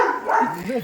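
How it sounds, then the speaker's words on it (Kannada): A single short, close bark from a dog, sharp and bright, lasting under a second. "ನಾಯಿಯೊಟ್ಟಿಗೆ ನಾಯಿ ಮಾತಾಡ್ತಾ ಉಂಟು"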